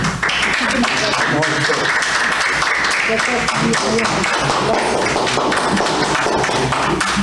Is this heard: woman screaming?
no